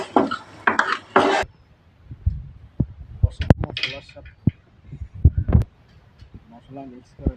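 Meat being stirred with spices in a cooking pot, giving a run of scraping, clinking utensil-on-metal sounds and scattered knocks, with a burst of louder clatter at the start and a voice speaking over much of it.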